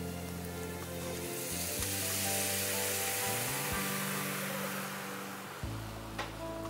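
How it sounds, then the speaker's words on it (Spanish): White wine poured into a pan of sautéed garlic and onion hisses and sizzles loudly and steadily, then fades slightly as the bubbling settles. "Añadimos el vino blanco."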